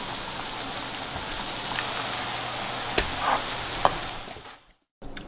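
Koshari mixture sizzling in a pan while being cooked for the Egyptian dish, a steady dense crackle held close throughout with a couple of sharper pops, then cutting off briefly near the end before resuming.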